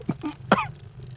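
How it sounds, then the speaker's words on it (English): A character in the Deus Ex video game coughs a couple of times, short and fairly close in a quiet scene. "I brought you something for that cough."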